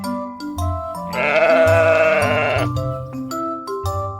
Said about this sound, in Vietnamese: Con cừu.